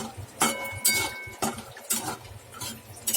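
Cashews, almonds and other dry fruits roasting together in a pan for gum laddoos, stirred with a utensil that scrapes and clinks against the metal in quick, irregular strokes, close up with no talking.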